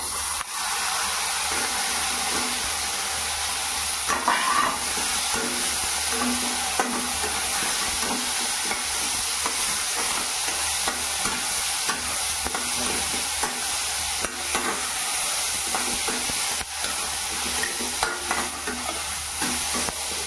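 Radish pods (mulyachya shenga) tossed in hot oil with turmeric, a steady frying sizzle with repeated scraping stirs of a spoon against the pan, close and continuous throughout.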